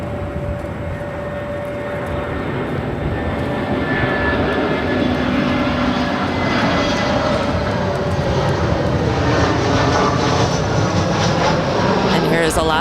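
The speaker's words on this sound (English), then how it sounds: "Alaska 307 coming in from their hub at Seattle. And it's an A320." An Alaska Airlines A320 arriving at LAX from Seattle roars overhead with loud, steady jet engine noise and a whining tone that swells toward the end, while faint voices murmur underneath.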